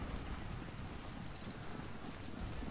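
Horses clip-clopping in the Civil War strategy game Ultimate General: Civil War as artillery limbers onto horses at Bull Run, a dense steady patter of hooves under faint background battle noise.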